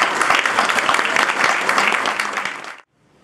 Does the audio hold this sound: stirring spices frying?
no